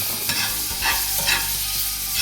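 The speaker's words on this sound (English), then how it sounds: "Add the spinach in there with the tomatoes and stuff." Spinach and tomatoes tossed into a hot pan with sizzling meat for a chicken croissant sandwich, a loud continuous sizzle with several stirring scrapes, no talking.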